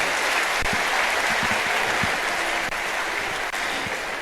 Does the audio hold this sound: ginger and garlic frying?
no